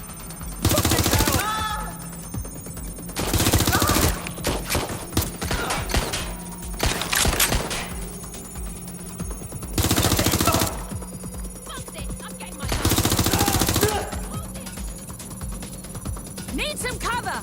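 Bursts of gunfire in the Watch Dogs: Legion game come in four loud, broad volleys about two to three seconds apart. Sharper crackling shots fall between them, and someone shouts over the action.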